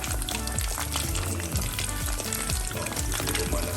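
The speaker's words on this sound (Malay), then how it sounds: "Macam ni je goreng." Food fries and sizzles steadily in a stainless steel cooking pot, a dense crackling hiss heard close with faint stirring scrapes.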